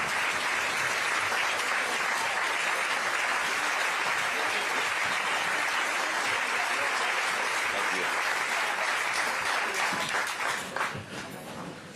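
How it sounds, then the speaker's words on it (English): Press briefing audience in Wisconsin applauding to welcome Congressman Cory Mills, loud continuous dense clapping filling the room, holding steady for about ten seconds before tapering off. "You should have held your applause"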